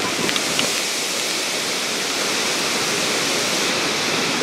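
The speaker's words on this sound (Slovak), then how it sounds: "v diablovom hrdle, strašne veľa vody tu na nás špliecha" The Devil's Throat at Iguazu Falls thunders from very close range, a dense, constant roar of falling and splashing water that drowns out everything else, with a few faint spatters near the start.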